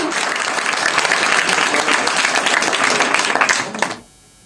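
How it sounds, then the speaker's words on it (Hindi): Dense clapping from a gathered group applauding a girl who won a trophy, loud and even for about four seconds before stopping abruptly. "तालियां भाई"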